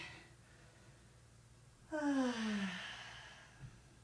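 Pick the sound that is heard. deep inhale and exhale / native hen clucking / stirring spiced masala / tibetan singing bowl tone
deep inhale and exhale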